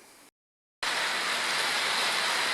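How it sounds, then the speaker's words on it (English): Steady rain falls outdoors during a tractor brake job, a dense even hiss that briefly cuts out and then returns louder and continuous. "Alright, it's starting to rain a bit harder"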